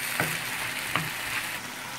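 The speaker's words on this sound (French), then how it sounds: "on remue de temps en temps, on fait griller un petit peu les morceaux" Pieces of meat and pan-fried potatoes sizzle steadily in a pan for homemade tacos, a continuous close frying hiss with a couple of soft stirring scrapes and no voices.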